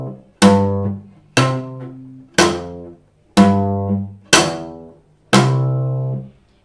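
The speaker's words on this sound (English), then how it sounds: "that is the snap pizz or the Bartok pizzicato." Six sharp plucked cello notes, each a hard snapping attack with a ringing decay, spaced about a second apart, played solo and close.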